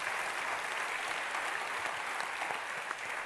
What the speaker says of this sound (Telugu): యేసయ్య గట్టిగా చప్పట్లు కొట్టి ప్రభువును అనుమయింపరిచాం.